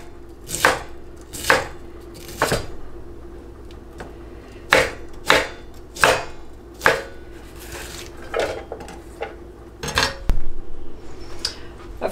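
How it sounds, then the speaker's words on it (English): A knife shreds a whole cabbage into quarter-inch strips on a cutting board, with sharp, crisp chops landing in irregular bursts, some quick pairs and some spaced pauses, heard close with no talking. "So do that with the entire cabbage until you've got it all shredded up."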